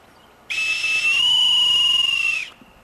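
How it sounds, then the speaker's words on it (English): A bosun's whistle blown close up: a shrill, sustained piercing tone lasting about two seconds, with a brief warble as the pitch shifts. "It's a bosun's whistle. For calling the sailors together."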